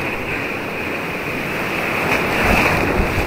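Strong ocean waves churn and crash close by where people are fishing for giant trevally, a loud, continuous surf roar with wind buffeting the microphone and a swell toward the end.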